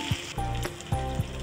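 Boiled egg masala sizzles and fries in a pan while being stirred, with a few distinct scraping strokes over a steady, close hiss of frying.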